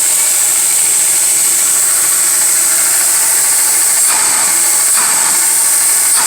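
A 1912 Spencer Turbine built-in vacuum runs below full speed, giving a steady, even rush of air with a high whine. It is fairly loud and continuous, with no voices.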